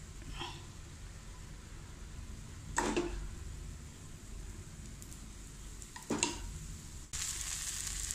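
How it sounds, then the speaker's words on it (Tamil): Green gram dosa batter sizzles steadily on a hot griddle, a continuous hissing fry broken by a few brief scraping or clattering sounds. "கல் சுடாயிடுச்சு, தோசை விட்டுருக்கேன்."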